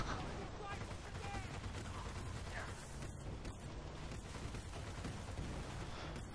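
Gunfire and RPG explosions from the Battlefield Bad Company 2 video game, a dense, continuous barrage of shots and blasts with game music and voices under it throughout.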